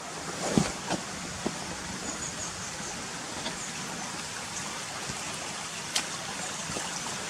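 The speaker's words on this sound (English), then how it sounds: "the stream's running down there, look, from underneath the wire fence" Stream running beside a boggy, wet footpath, a steady broadband wash of flowing water heard fairly close, with wind buffeting the microphone and a few soft knocks.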